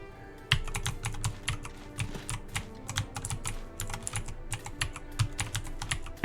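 Rapid typing on a computer keyboard, dense irregular key clicks rattling continuously and close up with no voices.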